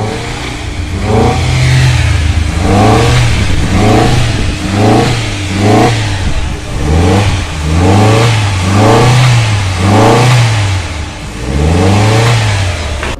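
An SWM car's engine, which won't take throttle, is revved over and over. Each rise climbs and then falls back without passing about 4000 RPM, giving roughly a dozen loud, close, evenly paced surges.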